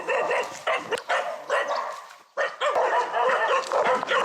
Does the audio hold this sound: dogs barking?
yes